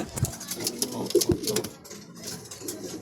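Racing pigeons coo in a loft, soft repeated low calls close by, with scattered rustling and faint background noise between them.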